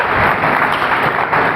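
Applause for the girls at a youth camp, a steady wash of many hands clapping, loud and unbroken for the whole stretch with no talk.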